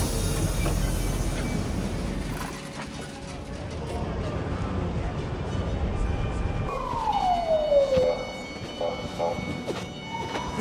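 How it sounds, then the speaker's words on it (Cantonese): A police car siren sweeps downward once in central Moscow under heightened security, rising out of steady city traffic rumble and then trailing off, at moderate distance. "聽到好多嘅警車聲啊"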